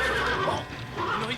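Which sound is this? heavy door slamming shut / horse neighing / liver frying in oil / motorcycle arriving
horse neighing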